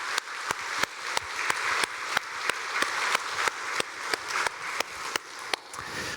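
A church congregation clapping together in unison at a Sunday worship service, loud steady rhythmic claps at about two per second under a diffuse room wash, no talking.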